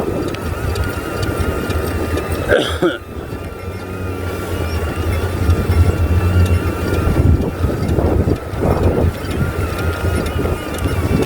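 A DJI drone flying in strong gusts, with heavy wind buffeting and rumbling across the microphone, a steady whine beneath, and a sharp gust or bump around the third second.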